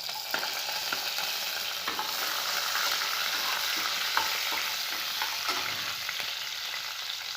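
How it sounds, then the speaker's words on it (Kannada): Green chilies fry in hot oil for rava upma, a steady, dense sizzle with scattered small pops and faint stirring clicks, with no voices. "ಈಗ ಇಲ್ಲಿ ನಾನು ಮೆಣಸಿನ್ಕಾಯಿ ಹಾಕ್ತಾ ಇದ್ದೀನಿ"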